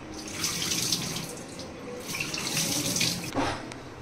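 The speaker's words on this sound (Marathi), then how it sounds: "आता पाणी घालतोय." Water pours steadily into a pot of washed rice, a continuous splashing gush that swells and eases slightly over a few seconds, fairly quiet and with no talking.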